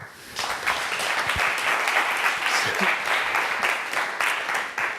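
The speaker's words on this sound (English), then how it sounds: "would just join me in welcoming Jim Wilson, let's give him a big round of applause." Audience applause greets a guest speaker at a SICSS 2018 summer institute session, a dense, steady wash of clapping from a seated crowd that starts after a brief lull and holds for about five seconds.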